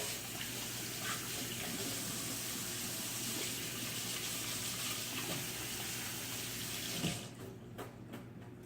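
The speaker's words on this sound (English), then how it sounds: "Rinse my hands again." Tap water runs steadily over hands being rinsed in a kitchen sink during pork butt preparation, a close, even rush that stops abruptly near the end, leaving a few faint knocks.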